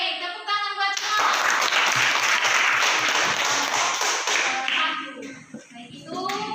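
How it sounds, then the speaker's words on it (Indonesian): Classroom applause after a student group presentation, loud, close clapping from a group that swells in after a brief voice and tapers near the end, with voices heard around it. "tepuk tangan buat semua"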